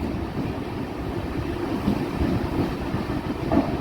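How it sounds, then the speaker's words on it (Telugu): A train pulling into Tambaram railway station, heard as a steady low rumble and rolling wheel noise that holds close and even throughout, with no voices. "మన ట్రైన్ తాంబరం రైల్వే స్టేషన్కి అయితే వస్తుందండి"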